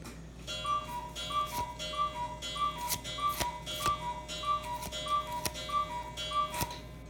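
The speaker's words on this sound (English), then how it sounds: "yes, I have a cuckoo clock" A household cuckoo clock ticks in a steady, even rhythm for several seconds, each tick clear and close, with a faint background hum and no talking.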